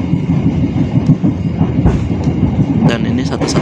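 Long-distance passenger train KA Motis Utara on the Cilegon to Pasar Senen line, heard from on board as a steady loud rumble of wheels on rails with clickety-clack beats and a few sharper squeals near the end.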